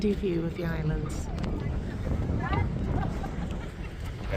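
Steady coastal wind at Corralejo buffeting the microphone in a low, continuous rumble, with a person talking over it.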